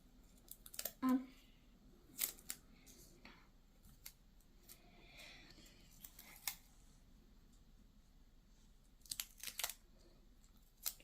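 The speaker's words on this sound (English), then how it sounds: "So I'm cutting like a little long pieces of tape" Scissors snip through long strips of tape while making a paper squishy craft, giving several sharp, close cuts spread through a quiet room with brief rustles and handling noises between them.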